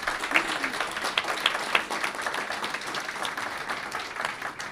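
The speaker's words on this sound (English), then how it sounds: "A round of applause for our guests." Applause from a live debate and book launch audience in New York for the guests, a continuous, even crowd clapping at moderate level with no voices standing out.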